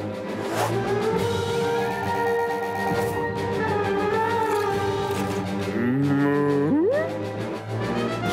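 A long, drawn-out cow moo with wavering pitch, ending in a rising bend, set against a busy background of other sounds.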